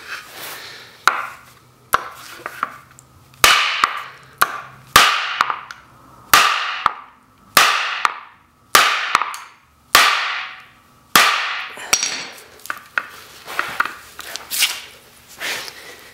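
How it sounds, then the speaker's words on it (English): About a dozen loud, sharp hammer blows strike an iPhone charging cable one after another at an uneven pace, each metallic strike ringing briefly before fading. "we're going to hit this with a hammer a few times to see what happens"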